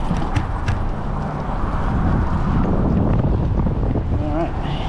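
Wind blowing on the Duwamish River, a loud steady roar buffeting the microphone throughout, with faint clatter and passing sounds beneath.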